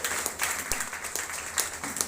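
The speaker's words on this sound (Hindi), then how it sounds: "मैं चाहता हूं उनके लिए जोरदार तालियां होना चाहिए।" An audience applauds a leader at a gathering, a dense, continuous patter of many hands clapping at moderate distance for a couple of seconds.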